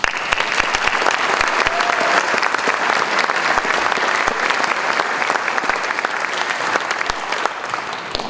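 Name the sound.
audience applause welcoming a speaker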